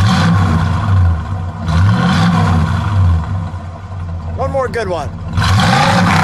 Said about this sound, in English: Man, give it a rev, please.